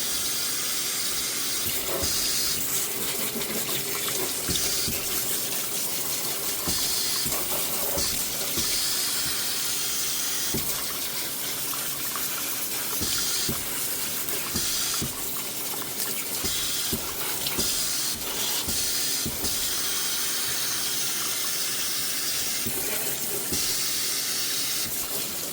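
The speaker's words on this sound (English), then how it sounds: "using a little bit of water spray opens it up" Water spray hissing steadily over a Miltoniopsis orchid as it flushes and cleans the leaves, a continuous broadband spray with small splashes, close and fairly loud throughout.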